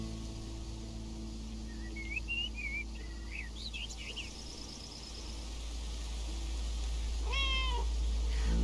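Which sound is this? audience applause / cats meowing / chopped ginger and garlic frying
cats meowing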